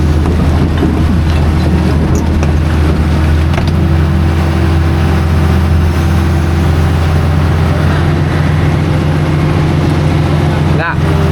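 An excavator works in the Cipamingkis river, washing itself in the water, giving off a steady loud low engine rumble with churning water noise throughout.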